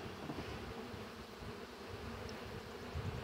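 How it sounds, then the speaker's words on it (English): A swarm of honey bees being shaken into a hive box drones with a dense, continuous buzz close by, steady and loud throughout with no voices. "Lots of bees."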